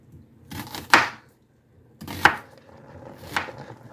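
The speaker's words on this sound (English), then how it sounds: "And then I will just chop up these onions." A knife chops onions on a cutting board in three separate, close strokes, each a sharp thud with a short scrape, spaced about a second apart with no talking.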